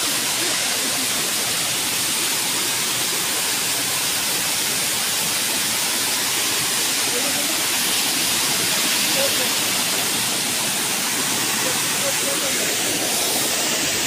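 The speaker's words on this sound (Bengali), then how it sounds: "ঝর্ণাটা খুব সুন্দর ভাল লাগছে দেখে" A waterfall at Ajodhya Hill in Purulia roars in a loud, constant rush of falling water, a steady broadband hiss that never lets up.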